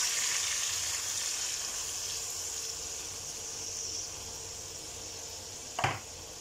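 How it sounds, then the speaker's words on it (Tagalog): Chicken frying in a pan, a steady close sizzle and hiss of hot oil that runs continuously, with a brief clatter near the end. "habang niluluto natin, piniprito natin"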